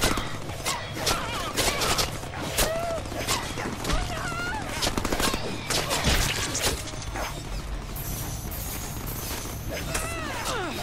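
Gunfire and crashing impacts in the video game Deadpool, a chaotic stream of shots, smashes and thuds, with voices talking over the action throughout.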